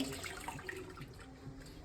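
Soft, continuous trickle of boiled chutney liquid being poured and strained, quiet and close.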